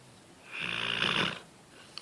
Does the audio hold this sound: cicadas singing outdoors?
no